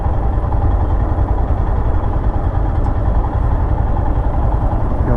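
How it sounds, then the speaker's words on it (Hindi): A Royal Enfield Scram 411 motorcycle engine runs loud and close in urban traffic, a dense, continuous low-mid roar with little change across the few seconds. "इंजन भी ज़्यादा हीट नहीं हो रहा, जबकि I am ripping the throttle to the red line."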